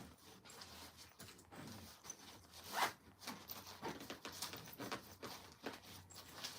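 A luggage suitcase zipper is pulled along in a series of rasping, uneven strokes with brief pauses, close and moderately loud, mixed with light handling rustles.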